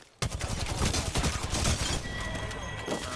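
Rapid video-game gunfire erupts suddenly, a dense fusillade of loud overlapping shots crackling continuously for about three seconds with no talk over it.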